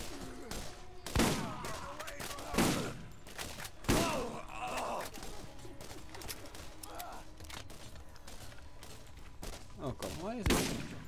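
Shotgun blasts in Borderlands boom out as a few loud, separated shots over steady combat noise, with a person talking in between.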